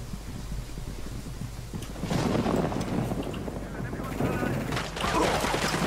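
Sustained gunfire in Ghost Recon Wildlands with many enemies shooting from a tower, a dense rattling barrage that swells louder midway and keeps going throughout.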